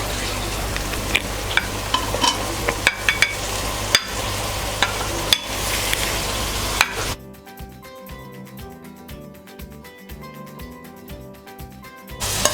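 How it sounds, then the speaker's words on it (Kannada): Tomato masala fries loudly in a pan as boiled potatoes and peas are added for tawa pulao, with sharp clatters and sizzling stirring that give way to quieter background music. "ಈ ಟೈಮಲ್ಲಿ ನಾವು ಈಗಾಗಲೇ ಬೇಯಿಸಿಟ್ಕೊಂಡಿರೋಂಥ ಆಲೂಗಡ್ಡೆ ಹಾಗೂ ಬಟಾಣಿಯನ್ನು ಇದಕ್ಕೆ ಹಾಕೋಣ."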